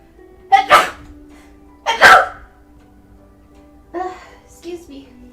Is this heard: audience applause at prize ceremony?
no